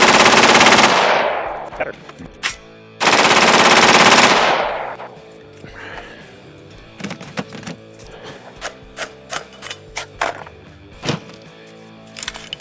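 AR-15 rifle with a nitride-treated barrel firing full auto, two long roaring bursts, very loud and close, followed by scattered clicks and metallic handling sounds as a voice speaks briefly.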